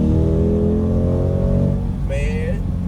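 A Chevrolet Corvette C8 accelerates hard on a back road, its engine note climbing steadily in pitch, loud and close, easing off briefly before a short whine near the end.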